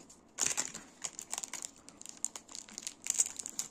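Unwrapping a well-packed stainless steel marker part for firesteels, with bursts of crinkling and tearing packaging close by, irregular rustles continuing throughout.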